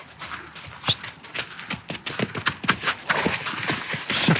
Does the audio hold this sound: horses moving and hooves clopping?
yes